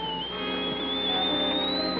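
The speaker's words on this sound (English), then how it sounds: "It's only the kettle. The whistling tea kettle." A whistling tea kettle gives a steady, shrill whistle that slowly rises in pitch, holding continuously without pause as it comes to the boil.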